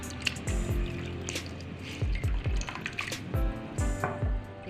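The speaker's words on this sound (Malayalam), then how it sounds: "ഇതിൻ്റെ ആ കപ്പയുടെ കട്ടൊക്കെ പോകാൻ വേണ്ടിയിട്ടാണ് നമ്മൾ നന്നായിട്ട് കഴുകി വാരി പിഴിഞ്ഞെടുക്കുന്നത്" Grated cassava (tapioca) being washed and squeezed by hand in a basin of water, giving repeated wet squishes, drips and trickles in close, steady bursts with no talking.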